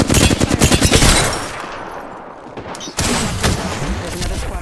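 Rapid automatic gunfire from a squad-based shooter video game: loud, dense bursts that ease off toward a quieter stretch midway, then resume sharply.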